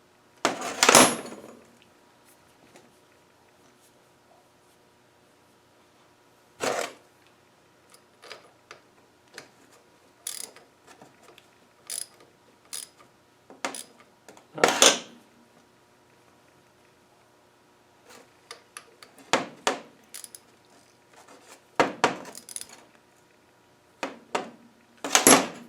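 An Adwest steering box from a lightweight TDCi setup is wound in and out by hand during a rebuild, producing sparse mechanical clicks and ticks with a few louder clunks spread across near-silence.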